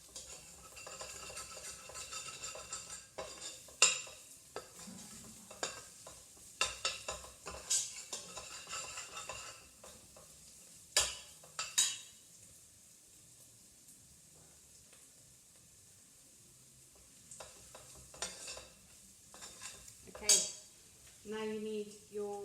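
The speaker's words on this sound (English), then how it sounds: "you need to continuously mix because you don't want to burn" Ginger and garlic for chicken curry being stirred continuously in a pan, with irregular spoon scrapes and clinks against the metal over a soft sizzle, some strokes louder than others.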